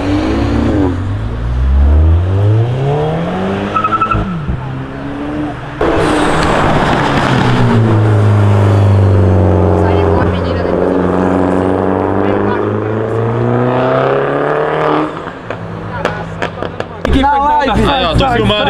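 A car engine revs hard and close, rising and falling in repeated sweeps with brief pauses between bursts. Voices talk and shout around it.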